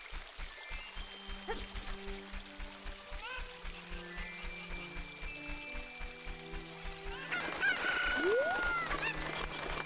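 A cucco clucks in Zelda Ocarina of Time amid tonal game music and soft rhythmic footsteps, with a brighter squawking burst near the end, all fairly quiet in the mix.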